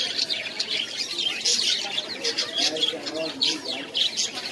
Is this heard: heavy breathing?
no